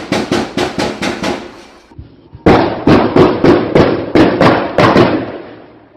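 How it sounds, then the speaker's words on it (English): Flashbang grenades go off during an armed police standoff as two rapid sequences of sharp, loud explosive bangs, each burst a few fractions of a second apart with a brief lull between the sequences. "In the video, we can hear 2 sequences of 9 explosions, so that looks very much like these flashbangs."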